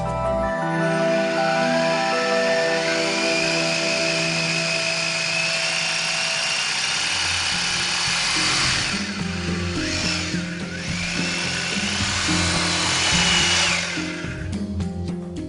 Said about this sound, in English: make holes in the wall using an appropriate drill bit